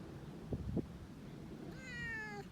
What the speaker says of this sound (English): She is one of CARE's resident kitty cats, or we call them house meows.